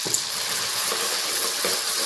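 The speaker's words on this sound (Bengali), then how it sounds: "বন্ধুরা এই যে ফুচকা ভাজা শুরু করে দিয়েছি, দেখুন কিভাবে ফুচকা ভাজি।" Fuchka puris fry in hot oil, a dense, continuous close sizzle with soft bubbling and no talk.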